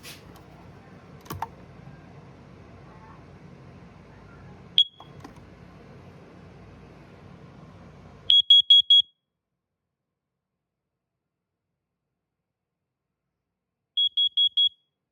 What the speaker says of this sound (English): We'll do this carbon monoxide alarm too.